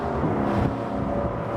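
Boat engines on a LOMAC Gran Turismo 10.5 boat roaring at around 3,500 RPM, a brief steady engine drone blended with rushing water noise.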